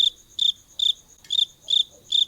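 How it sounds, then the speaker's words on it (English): A cricket chirping sound effect: six evenly spaced, high, shrill chirps in a steady rhythm, loud and close against a near-silent background. "Crickets?"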